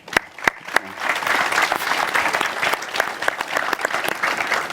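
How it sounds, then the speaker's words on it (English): Conference audience applauds the panelists after a discussion on cultural heritage, starting with a few sharp individual claps that swell into a moderate, steady round of clapping. "Let's give a round of applause to you."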